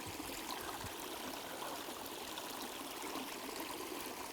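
A small mountain creek in elk backcountry flows steadily with a constant, bright rushing and trickling wash, close and even throughout, with no voices.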